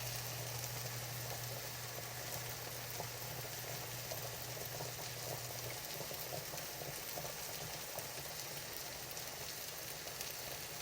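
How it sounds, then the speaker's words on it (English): A pot of rice boils steadily, with a constant bubbling and gurgling texture and a faint hum underneath, even and uninterrupted for around eleven seconds and free of any talk. "see the rice came up to a boil"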